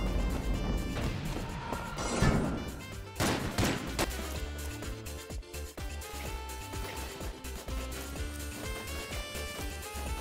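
Shotgun fire in the video game Enter the Gungeon, several sharp bursts and crashing shots over busy game music, with a dense cluster of impacts early on followed by lighter rhythmic hits.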